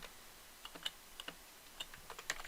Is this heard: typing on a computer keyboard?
yes